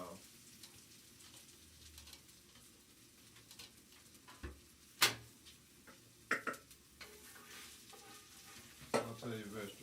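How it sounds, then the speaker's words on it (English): Vegetables sautéing in a pan for chili, a low constant sizzle with scattered clinks and scrapes of stirring, a few sharper knocks standing out, fairly quiet and without speech. "Saute your vegetables."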